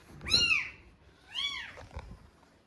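Two high, wavering meows from a litter of three kittens found indoors, close by and fairly clear, with a short pause between them and a soft knock afterward.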